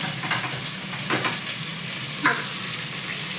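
Onion frying in a pan for a leafy-greens saaru crackles with a steady sizzle, with a few louder utensil scrapes and clacks standing out near the start and middle.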